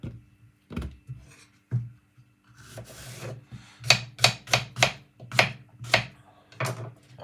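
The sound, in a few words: chopping green plantain with a knife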